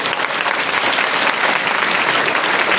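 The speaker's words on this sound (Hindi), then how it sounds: "एक बार इनके लिए जोरदार ताली बजा लीजिए" A crowd at a direct selling team seminar breaks into loud, dense applause for an audience member, steady and full throughout with no talking over it.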